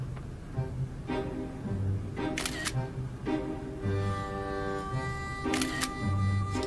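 Several crisp camera shutter clicks come in quick pairs as someone photographs a meal at the table, mixed with faint dishware sounds in a quiet indoor room.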